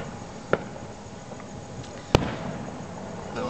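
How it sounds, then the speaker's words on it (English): Fireworks at Disneyland during a 4th of July show pop with two sharp bursts, one faint and one louder, against a steady crowd and ambient hum. "Disneyland always has the best fireworks."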